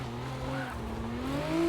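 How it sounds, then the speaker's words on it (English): A racing video game R32 GTR with a 750whp RB26 engine holds a loud, steady high-rev drone that climbs slightly near the end, heard alone for a short burst. "the engine you hear that you're sitting here revving out and redlining and stuff kind of matters"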